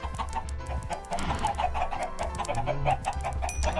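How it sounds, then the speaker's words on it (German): Chickens cluck in Minecraft, a steady run of short repeated clucks from several birds, fairly close, with no talk over them. "Hühner."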